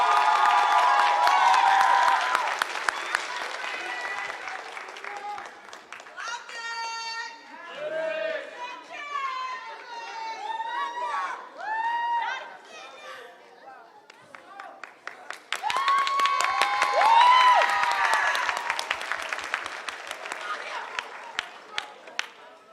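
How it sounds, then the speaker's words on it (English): Audience at a school graduation ceremony clapping and cheering, a loud burst of applause that eases into crowd chatter and murmuring, then swells again into strong clapping near the end. "Give them a round of applause."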